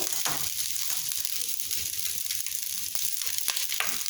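Cooked rice being stirred into a hot tempering for curd rice (mosaranna), a steady close sizzle and frying hiss with scattered scraping stirs throughout, no talk.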